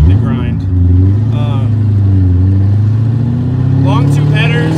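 A cammed Corvette C5 Z06 V8 with long tube headers, an X-pipe and exhaust dumping over the rear axle rumbles steadily at a loud, lumpy idle, with brief voice-like sounds riding on top.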